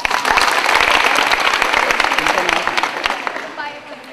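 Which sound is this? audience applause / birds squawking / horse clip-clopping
audience applause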